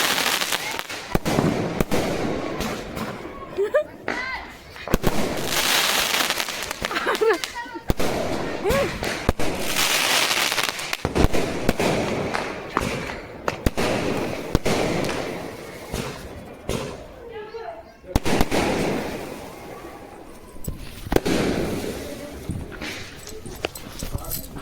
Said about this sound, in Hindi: ये लोग अपना जितने स्काई शॉट वगैरह थे छुरछुरियाँ हैं सब अपना जला रहे हैं।